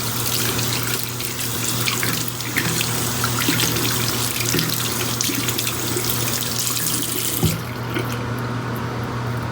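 Water runs steadily from a tap while makeup brushes are rinsed under it, a continuous close splashing hiss with a low hum beneath, slight shifts as the brushes move in the stream.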